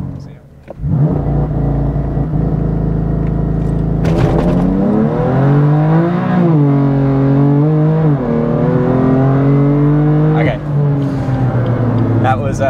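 Heavily modified BMW M4 CS launching from low revs, the engine climbing loud and close through several rising pulls with shifts between them, exhaust roar filling the cabin, a speaking voice faintly underneath.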